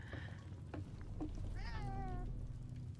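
A cat meows in the video game Reka, a rising, wavering call lasting about half a second, heard clearly over steady low background music and ambience.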